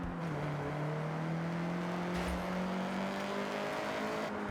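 A Honda CRX accelerates at full throttle in Forza Horizon 6, its engine holding a steady, rising drone for several seconds at a constant loud level with a faint brief squeal near the middle.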